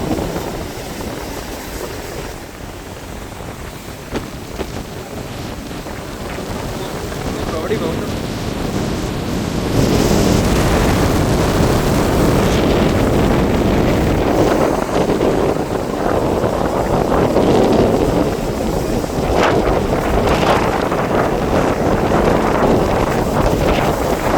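Strong storm wind roars across the microphone on the Jaffna coast as a cyclone drives rough sea waves, a dense continuous rushing that grows louder partway through, with a voice faintly present underneath.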